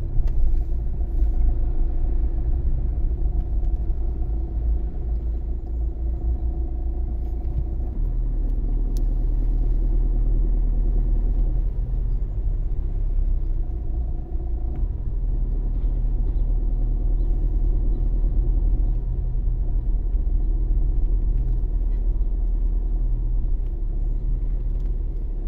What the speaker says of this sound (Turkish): Ne kadar trafik böyle bu kadar ya.